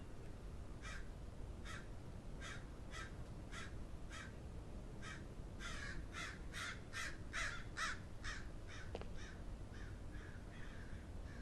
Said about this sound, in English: I don't like the crows.